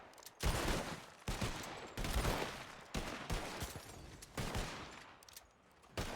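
Constables fire their weapons in a video game, loud rapid volleys in about six bursts separated by brief gaps, steady and close.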